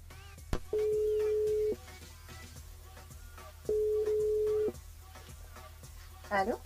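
Two long, steady phone ringback tones sound while calling Juliana on a mobile during a live radio show, separated by a pause, with faint background noise and a brief voice near the end.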